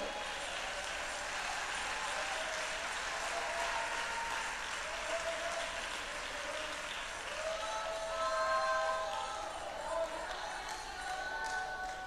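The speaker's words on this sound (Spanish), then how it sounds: "Denle el aplauso a Cristo." A congregation claps together in sustained, steady applause for several seconds, dense and fairly loud, with faint voices mixed in.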